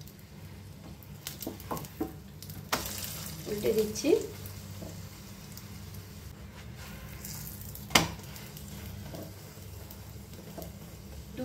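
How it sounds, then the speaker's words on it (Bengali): A chicken keema paratha frying in white oil on a griddle, a low, quiet sizzle with intermittent scrapes and a sharp knock as it is turned, while a voice speaks briefly. "সাদা তেল দিয়ে 1-1 মিনিট করে দু পাশটাই ভেজে নেব"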